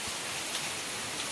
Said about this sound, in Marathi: आम्ही तुमका मी आता पाऊस दाखवतोय